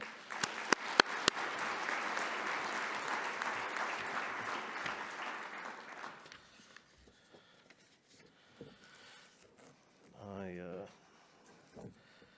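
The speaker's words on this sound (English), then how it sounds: "So please, round of applause again for Mr. Booth." An awards presentation audience breaks into loud, sustained applause that lasts about six seconds. The clapping then fades into a quiet room with a few scattered sounds and a short stretch of voice.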